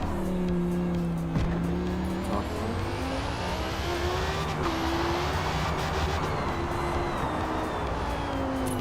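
A race car in Forza Motorsport drives hard with a sustained engine whine that rises and shifts in pitch across gear changes, along with tire noise and a constant loud whir.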